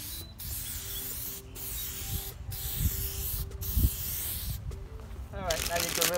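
Spray paint hisses in several steady bursts across a Toyota headlight lens during a second coat, with brief pauses between passes. The sound is close and moderately loud, and a voice speaks briefly at the end.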